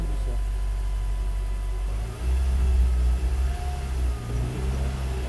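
Heard from inside, a VW Fun Cup race car engine rumbles low and steady, then swells as the car pulls away and settles again, close and fairly loud.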